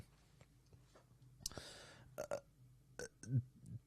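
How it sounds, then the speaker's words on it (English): Several burps in quick succession, close and fairly loud, with short pauses between them and no talking. "I just can't stop burping"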